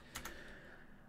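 Two quick keystrokes on a computer keyboard, close and fairly quiet, followed by a low steady room hum.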